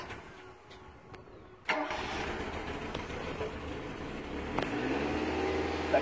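Mazda 323F engine cranks briefly after a few quiet clicks, then catches and settles into a steady close idle that rises slightly toward the end, with no voices.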